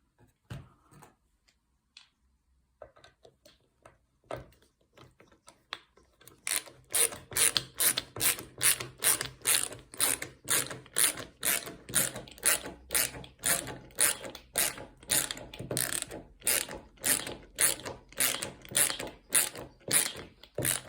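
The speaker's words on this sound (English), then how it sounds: "now this one I'm going to tighten up all the way through, and I'm going to go back and tighten these ones" A ratchet tightening screws on a wooden nesting box, starting with a few quiet clicks and then a long run of loud, regular rasping strokes in steady rhythm, close up and alone.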